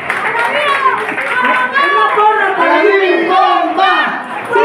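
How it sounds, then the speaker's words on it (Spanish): Close, loud crowd at a Mexican broadcasters' association celebration for Announcer's Day cheers and shouts in unison, with clapping mixed into the sustained roar of voices. "Fuerte el aplauso para don Víctor Flores."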